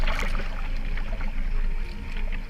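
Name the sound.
kayak paddling on water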